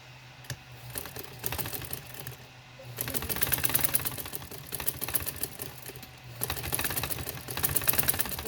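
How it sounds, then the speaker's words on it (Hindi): A sewing machine stitches a neckline on a garment, running in two sustained bursts of rapid mechanical whirring and clatter separated by a quieter pause with scattered clicks, close and clear with no talk. "चलो अब मैं इसके ऊपर सिलाई देती हूँ।"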